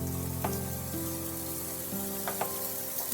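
Sweet potato pieces roasting in a pan, a faint, steady sizzle with a couple of soft taps as pieces are turned, over a quiet background hum.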